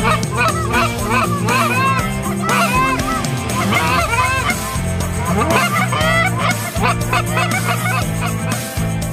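Canada geese honking loudly and continuously as a flock flies low into decoys during a Michigan goose hunt, many overlapping close calls in busy bursts.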